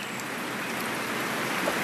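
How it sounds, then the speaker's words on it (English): Continuous rain patters and hisses evenly throughout, a close, steady wash of drops with no voices. "It is raining today, so Peppa and George cannot play outside."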